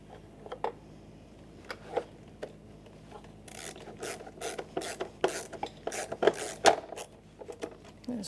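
Screws being driven to mount a power window motor and regulator assembly inside the door of a 2011-2021 Jeep Grand Cherokee: quiet ratcheting clicks and scraping rasps, sparse at first, then a denser run of close, gritty bursts.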